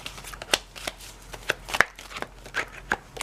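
A deck of astrology cards is shuffled up close, giving a series of crisp, irregular riffling snaps and soft slides. No one speaks.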